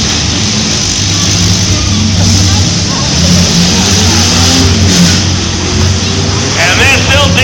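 Demolition derby cars at the Skowhegan State Fair grinding, revving and colliding in a big pile-up in the middle of the arena, a loud constant engine roar with scattered crunches, heard under an announcer's commentary.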